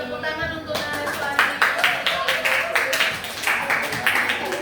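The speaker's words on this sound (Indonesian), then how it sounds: "tepuk tangan untuk Nariswa." Students applaud a classmate in a Year 8 Indonesian-language lesson, a burst of uneven clapping from a small group in a classroom that starts abruptly and continues in loose, irregular claps.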